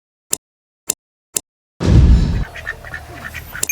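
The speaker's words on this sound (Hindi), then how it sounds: "बतख कौन सी प्रजाति? खाकी कंबल है।" Khaki Campbell ducks on a small poultry farm give three short, evenly spaced quacks, followed by a loud burst of noisy rustling and more scattered calls close by.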